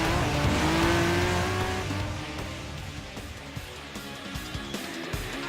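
A Honda NSX Group 4 race car in Gran Turismo Sport runs hard and loud at first, then eases off with rougher, popping engine sounds and tire noise as the level gradually falls.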